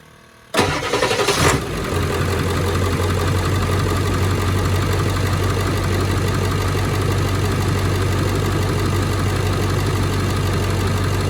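Ford Super Duty pickup with Odyssey Extreme AGM batteries cold-starting: a brief cranking burst catches into a loud engine that settles into a steady, rough, close idle rumble lasting about ten seconds.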